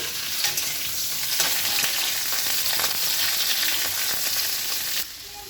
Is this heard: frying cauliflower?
yes